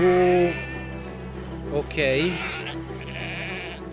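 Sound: sheep bleating in the video game Valiant Hearts

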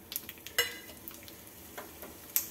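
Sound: mustard seeds and coriander frying in hot oil

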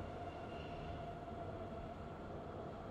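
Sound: Frankfurt U-Bahn subway train, from the video game Train Sim World 2022

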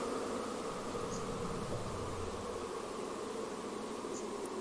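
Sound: pink noise from a filter in VCV Rack synthesizer

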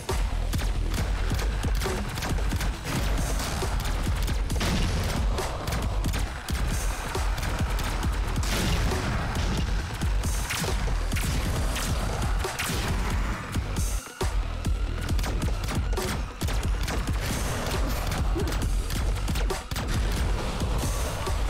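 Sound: shotgun fire in the video game Wildcat Gun Machine

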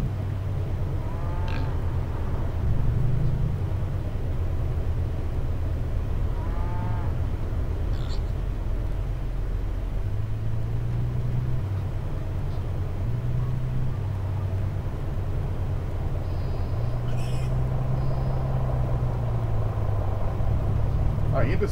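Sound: animal sounds in the Fernbus Coach Simulator video game

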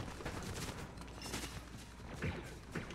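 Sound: distant gunfire in a video game

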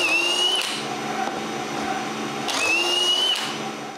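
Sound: drill drilling shelf holes in wooden poles

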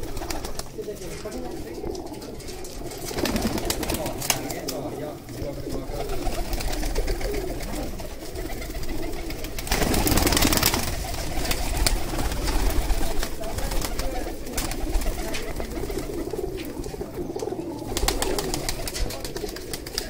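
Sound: pigeons cooing

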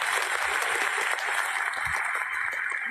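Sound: applause

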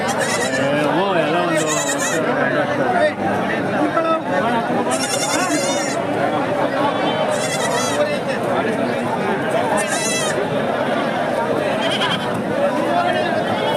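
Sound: sheep and lambs bleating

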